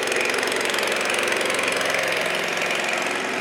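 A truck engine idles steadily at close range while its dirty water tank is emptied on a busy street in Chaweng, Koh Samui, a constant loud rumble with a low knocking pulse and no pauses.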